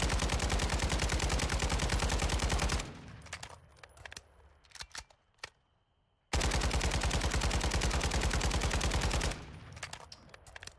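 An RPK machine gun with no attachments firing in Warzone 2.0, two long sustained automatic bursts at close range, with clicks and handling noises in the pause between them.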